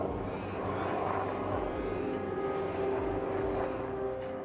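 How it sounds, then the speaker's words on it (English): A police helicopter circles over a house, its steady engine and rotor drone filling the air continuously at moderate distance with no talk over it. "For the past 3 days, a police helicopter has been circling above Carol Lowen's home."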